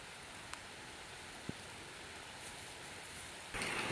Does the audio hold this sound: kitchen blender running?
no